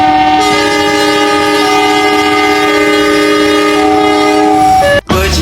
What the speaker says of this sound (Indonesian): lihat teman-teman, ada kereta klasik